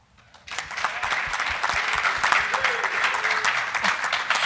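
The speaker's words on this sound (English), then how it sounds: "You got a cheering section out there." An audience at a live forestry and timberland conference session breaks into loud, dense applause with some cheering, starting suddenly after a brief quiet moment and sustained throughout.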